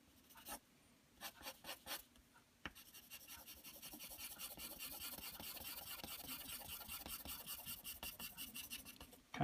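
Pencil shading a cartoon rat rod car drawing on paper, a worn-down pencil rasping in quick scratchy bursts, then settling into a steady, close, continuous rubbing stroke that runs to the end.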